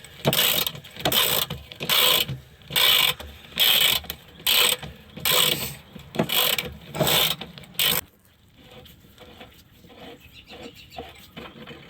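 Ratchet spinning off 14 mm oil pan bolts on a 2008 Suzuki Forenza, heard as several bursts of rapid clicking ratcheting close by, separated by brief pauses, followed by quieter handling sounds.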